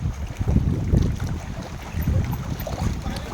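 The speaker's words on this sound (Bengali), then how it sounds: "দেখুন আমরা বোটে এসেছি, দুটো বোট করে এসেছি 10 জন মিলে" A boat carrying a group of ten friends across the Maithon dam reservoir, with a steady motor rumble and water wash under buffeting wind on the microphone, continuous and close.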